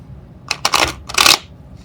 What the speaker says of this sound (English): take the adventurer deck, which is red, and shuffle those cards.